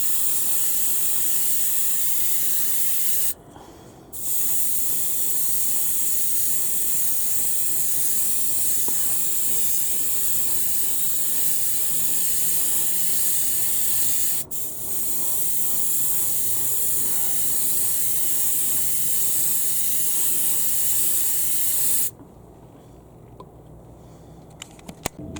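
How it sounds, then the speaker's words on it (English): An airbrush sprays ultra matte varnish onto a miniature at 20 psi from about two inches away, a loud steady hiss that cuts out briefly twice before stopping near the end. "Here I'm spraying at 20 psi and about 2 inches away, and I'm slowly building up that ultra matte varnish layer."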